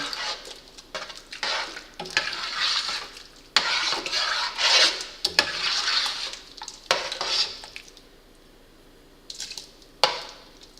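A thick game day chili with roasted chile peppers and no beans is stirred in a pot, producing close, wet scraping and rubbing strokes in uneven bursts with brief pauses, no talk over it.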